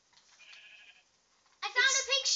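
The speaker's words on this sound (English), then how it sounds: "Wait, Echo, you see that sheep on your right?" A sheep in the video game Minecraft bleats twice: a thin, faint bleat followed by a louder, wavering one close by.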